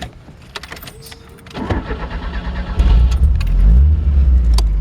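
Keys jingle, then a 1980 Fiat 2000 Spider engine cranks and catches, settling into a loud, rumbling idle close by.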